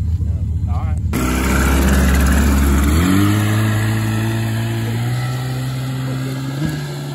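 A cheap used four-wheeler with a stuck throttle screams at a loud, sustained high rev, its pitch climbing and then holding steady, while people shout and laugh over it.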